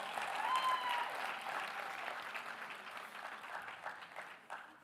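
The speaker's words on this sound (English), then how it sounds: "A massive, massive round of applause." Audience applause at the official LGE 2026 campaign launch, a dense, steady wash of clapping from a large crowd that stays loud throughout and eases slightly toward the end.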